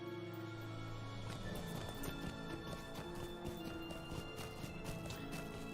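Horse hooves clip-clopping at a steady riding pace in Lord of the Rings Online, a continuous rhythmic patter over game music and ambience, with no speech.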